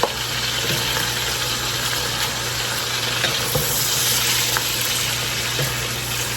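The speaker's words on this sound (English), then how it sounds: "That's a good sizzle." A continuous hiss of cabbage, noodles and sausage sizzling in a pot on medium heat, with occasional light scraping and stirring clicks over an even background.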